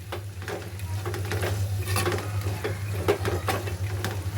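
Banana flower vegetable being stirred in a pan, with a spoon scraping and clattering in irregular strokes over a soft, steady sizzle, close and alone with no talk.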